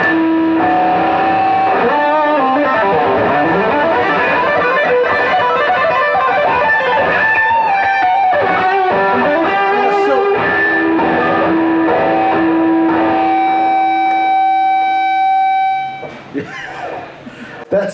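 Electric guitar played through a distortion pedal with the gain turned to maximum, giving sustained, noisy, mushy chords and held notes that ring loud and continuous before cutting off near the end.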